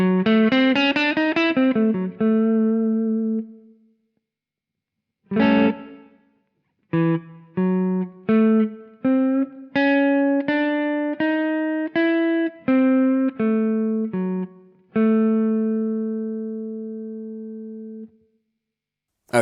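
A modern blues electric guitar lick using chromatic passing notes, clean single notes played alone in phrases with gaps between, loud and close, some notes left ringing long.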